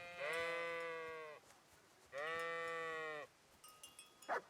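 Two long, wavering sheep bleats from the video game Kingdom Come: Deliverance, clear and fairly close, separated by a short pause, followed by a few faint clicks and taps.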